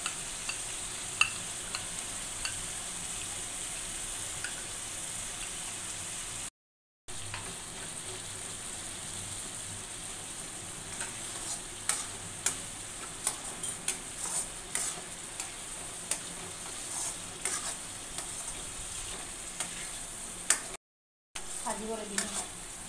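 A paste of ground cashews and melon seeds, fifty grams of each, fries in a pan with a steady, soft sizzle. Scattered crackles and small stirring clicks run throughout, and two brief dropouts break the sound.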